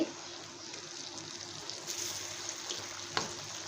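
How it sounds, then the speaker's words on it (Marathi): Koftas deep-frying in hot oil give off a steady, close sizzle and crackle with a few small pops, continuous throughout and no voices over it. "हे मी असं तळून घेते असे सोडून घेतलेले आहे"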